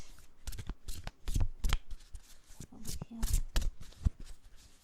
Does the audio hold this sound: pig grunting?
no